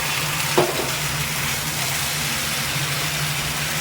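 Garlic, ginger and green chili paste hit fried onions in a hot pan, giving a steady, even sizzle with one brief clatter near the start.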